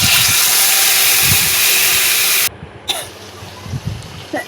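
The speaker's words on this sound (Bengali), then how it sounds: "রাঁধুনি ফোড়নটা একটু লাল লাল হয়ে গেলেই তারপরে দিয়ে দেবো আমি ম্যারিনেট করা রাখা মাছটা" Marinated fish lands in hot oil with radhuni spice tempering and gives a loud, dense sizzle for a couple of seconds. It then drops abruptly to a quiet, low crackle with faint kitchen movement.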